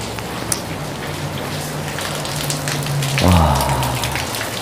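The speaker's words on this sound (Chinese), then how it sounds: "琴晚都落雨，一直未停過嘅，未停過" Steady rain falls continuously on surfaces outdoors, an even wash of patter throughout, with a short low humming tone rising near the end.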